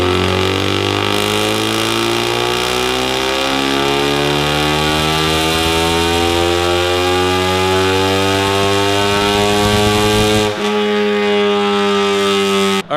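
An EcoBoost Mustang fitted with a Comp 5858 drop-in turbo runs on a dyno tuned for 93 octane, engine note climbing steadily for about ten seconds at loud, sustained volume before cutting off abruptly near the end.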